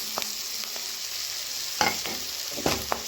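Grated raw mango stirred and sautéed in a pan with curry leaves over medium heat, a soft steady sizzle broken by several sharp scrapes and clinks of a spoon against the pan.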